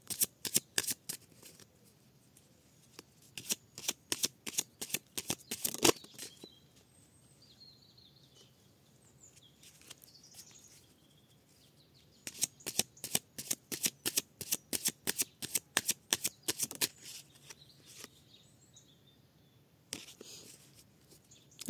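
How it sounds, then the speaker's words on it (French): Oracle cards are shuffled for a reading in rapid bursts of crisp riffling and slapping, separated by quiet pauses, close up with faint soft voice in the gaps. "Allez, une dernière carte qui saute."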